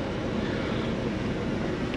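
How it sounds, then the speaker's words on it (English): Dash air conditioning in a 2006 Winnebago Journey 39K Class A diesel pusher with a 350 Cat engine blows as a steady, loud, broadband rushing roar, unbroken and alone. "Dash air. Blows ice cold."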